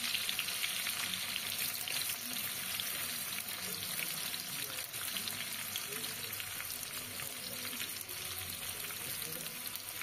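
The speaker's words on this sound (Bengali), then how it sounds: "তারপরে তেলের ওপরে পেঁয়াজগুলো দিয়ে দিচ্ছি।" Onions frying in white oil in an iron wok, giving a steady, dense sizzle that runs evenly and fairly close for the whole stretch with no talking.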